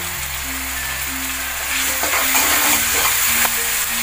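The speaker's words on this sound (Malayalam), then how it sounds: "ഉള്ളി പെട്ടെന്ന് വഴന്നു വരാനായിട്ട് കുറച്ച് ഉപ്പിട്ട് കൊടുക്കുക" Chopped onion sautés with a pinch of salt in a hot pan for a Kabool chena curry, giving a steady close sizzle and frying crackle with occasional stirring scrapes throughout.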